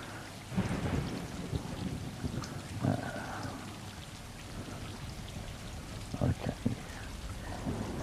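Steady rainfall patters throughout, with a few deep rumbles of thunder rolling in at intervals, moderately loud and without talk, in the video game Stray.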